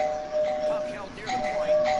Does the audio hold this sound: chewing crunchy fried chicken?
no